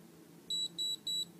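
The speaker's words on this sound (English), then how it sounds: "press the button so that hopefully you get the 3 beeps" Three short, evenly spaced electronic beeps from a body galvanic device, clear and close over a quiet low hum with no talking.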